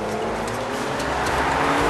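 An Audi TT and a BMW Z4 launch hard off the start line in an acceleration race, engines roaring loudly and continuously with rushing road and wind noise, no voices.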